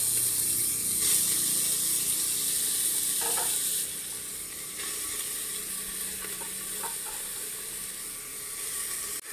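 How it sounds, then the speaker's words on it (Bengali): Chopped onion frying in a small amount of oil in a pan, a continuous bright sizzle that holds steady throughout with a few faint clinks of stirring. "একে একে আমি দিয়ে দিচ্ছি পেঁয়াজ কুচি"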